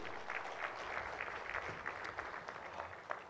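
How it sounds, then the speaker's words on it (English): An audience applauds a platinum sponsor at a Uganda-South Africa trade summit, a soft, steady wash of clapping that sounds faint and somewhat distant across the whole stretch. "Can we give them a round of applause?"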